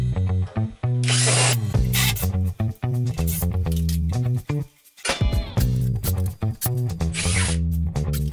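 A power tool, likely a drill, backs screws out of a 1960s sideboard during disassembly. It gives a loud, steady motor whine in repeated runs with brief pauses between screws, close up and with no talk.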